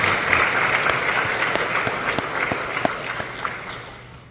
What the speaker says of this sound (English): please give our parents a round of applause